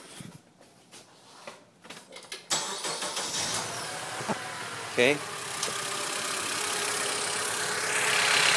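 Acura TSX with an ignition coil misfire cranks over and catches, then settles into a steady idle; a brief remark is spoken just before the engine starts.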